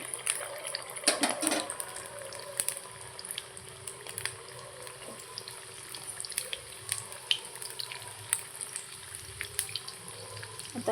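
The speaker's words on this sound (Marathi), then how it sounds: "आता यांना तेल तापलेलं आहे तर आपण ना ह्यामध्ये आळूवड्या सोडून घेऊया आणि ना आपण हे डीप फ्राय करणार आहे" Layered colocasia leaf vadi, a Maharashtrian snack, deep frying in hot oil gives a quiet, continuous bubbling sizzle with scattered sharp crackles and pops. There are occasional clinks of a utensil and no talking.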